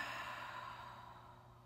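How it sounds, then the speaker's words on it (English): A single long, deep exhale during a guided breathing exercise, a steady breathy rush that starts fuller and slowly tapers off, close and fairly quiet with no talk over it. "And a full, deep breath out."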